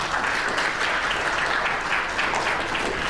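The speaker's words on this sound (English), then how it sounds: "A round of applause, please." A formal hall audience at a national climate forum in Kenya applauds in a steady, dense round of clapping throughout.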